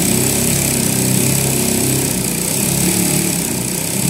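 A sewing machine stitches a pair of trousers, its motor running in a steady, loud, unbroken whir with no pauses or talking.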